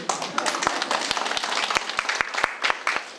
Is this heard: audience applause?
yes